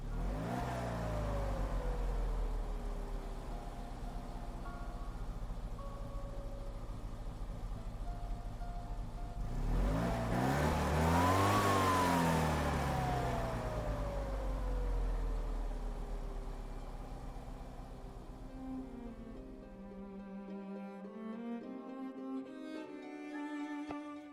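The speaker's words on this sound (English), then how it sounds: "the Fiat Panda 30CL 1985, which is an inline 2-cylinder" A 1985 Fiat Panda 30CL with an inline two-cylinder engine revs in Gran Turismo 7, its buzzy note climbing and falling twice in long sweeps before dropping to a lower drone, loud and alone.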